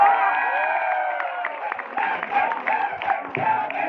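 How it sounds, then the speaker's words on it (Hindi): Applause and cheering from students at a university society election event in a department hall, a crowd clapping with whoops and shouts over it, continuous and fairly near. "ताली होनी चाहिए।"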